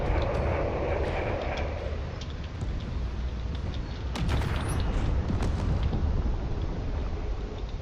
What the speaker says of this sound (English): they're taking quite a bit of damage from that railgun fire